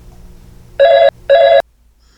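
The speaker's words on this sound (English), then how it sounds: "No sooner than she sat down, Saxton was calling her to his office" An office telephone rings in two short electronic trilling bursts separated by a brief pause, loud and close, then cuts off.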